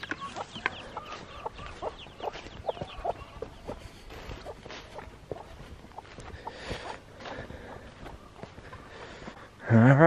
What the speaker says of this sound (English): over here, we got all of our chicks